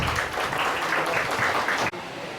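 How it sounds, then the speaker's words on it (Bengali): An audience claps at a college farewell and prayer gathering for HSC examinees in Bangladesh, a dense, steady round of applause that stops abruptly near the end. "আবার হাততালি দিই আমরা।"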